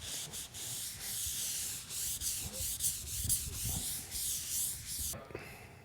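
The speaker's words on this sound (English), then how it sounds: "I've gotten pretty much all the sanding done" Sandpaper rubs over a foam cored rudder faired with Pettit EZ-Fair, a close, hissy scratching in repeated back-and-forth strokes that stops abruptly near the end.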